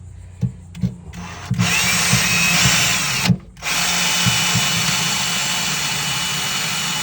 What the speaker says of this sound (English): Show you how I'm drilling in there.